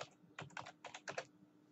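A password is typed on a computer keyboard, quick clusters of close, crisp key clicks in short bursts separated by brief pauses.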